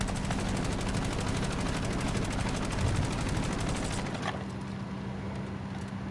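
Automatic gunfire in the Call of Duty Black Ops 7 gunsmith, a dense continuous rapid burst that is loud and close and holds for about four seconds, then cuts to quiet.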